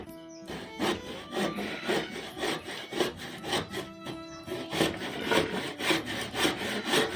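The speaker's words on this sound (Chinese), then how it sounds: "他现在在锯的就是这4只脚板凳的4只脚" A handsaw cuts wood for the four legs of a handmade solid-wood stool, each back-and-forth stroke giving a rasping pulse in a steady rhythm, close and clear with no talk.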